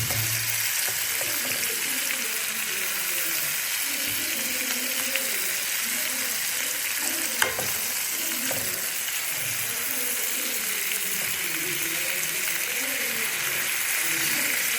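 Chicken pieces fry in a pan, turned now and then so both sides cook: a dense, even sizzle hisses steadily throughout, broken only by one sharp tap of a utensil partway through.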